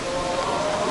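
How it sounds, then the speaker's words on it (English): Heavy rain falls in a dense, steady hiss at a zoo in Albania, loud and continuous throughout the brief moment with no pauses. "It's raining heavy."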